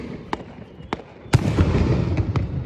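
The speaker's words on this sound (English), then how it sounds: "I love these little fireworks" Small fireworks pop outdoors, with a few sharp separate cracks followed by a louder bang and a run of crackling bursts close by.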